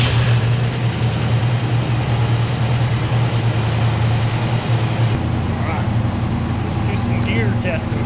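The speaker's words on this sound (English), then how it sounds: "I think we're ready to start this car up." A 1967 Ford Mustang engine runs at a steady, loud idle with a deep low rumble throughout, while a voice talks over it partway through.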